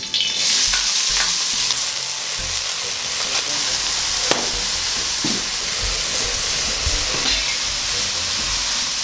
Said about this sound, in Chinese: 放一点肉炒这个